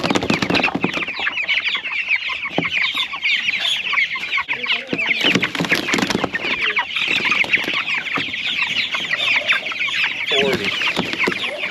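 Laying hens and young chicks cluck and chatter busily on pasture, a dense, continuous flock noise close by with overlapping calls.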